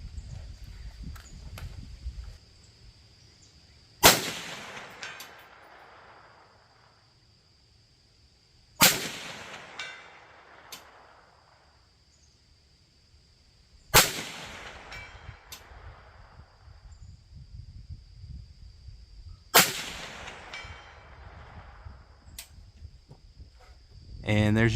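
Four rifle shots at targets 200 yards out, sighted through a red dot and magnifier combo, each a sharp loud crack spaced about five seconds apart, with faint background noise and brief talk between them.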